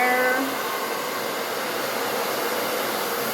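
A hair dryer blows steadily on its hot setting while styling hair with a large round brush of about two inches, a loud, even broadband whoosh running the whole time with no talking.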